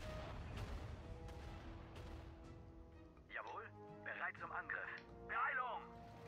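Katyusha rocket launchers fire in the Sudden Strike 4 Battle of Stalingrad campaign, giving distant booming rumbles and scattered crackling blasts under someone talking over game noise.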